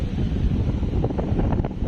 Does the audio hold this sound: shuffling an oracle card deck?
no